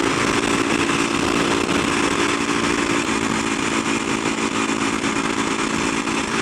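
A motorcycle with a broken throttle cable runs steadily and loudly up close, a continuous engine drone with no clear revving and no talk.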